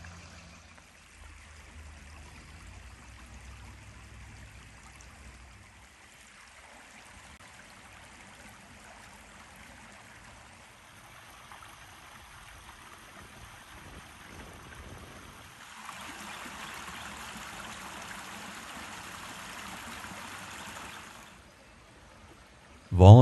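A creek beside a gravel trail makes a soft, steady, faint trickling and rushing that brightens toward the end, heard alone at a distance.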